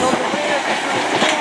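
A Class 455 electric multiple unit, number 455-710, rumbles past at Clapham Junction with steady rolling wheel noise and faint rail clatter, while voices talk over it.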